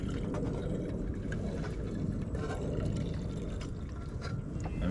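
Hot water poured into a mug for tea while wild camping in a forest in the Peak District, a continuous close liquid rush with soft splashing and a few small clinks.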